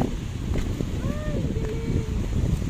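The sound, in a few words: strong wind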